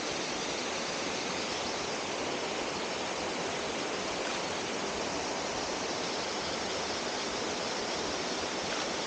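A waterfall in Uramakihata Canyon, Japan, pours out a steady, dense broadband rush of water, loud and unbroken for the whole stretch, with no voices over it.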